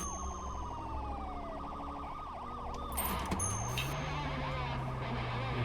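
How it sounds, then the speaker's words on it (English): A police car siren in the video game Legal Limits wails in repeating rising and falling sweeps, joined partway through by a sharper yelping pattern and a low engine hum, with no talk over it. "Flo is gonna engage his siren now and make him pull over."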